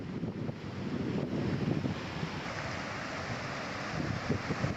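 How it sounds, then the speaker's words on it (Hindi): Fast-moving floodwater surges through city streets after heavy rain in Rajasthan, a steady broadband rush and roar with wind buffeting the microphone, loud and continuous, with no voices. "और पानी में वेग भी बहुत ज्यादा तेज है"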